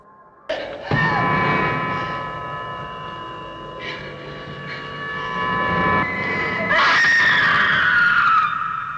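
A woman screams in a long, sustained, high-pitched cry that rises and intensifies toward the end, set against a rumbling background, in the 1963 Doctor Who serial 'The Daleks'.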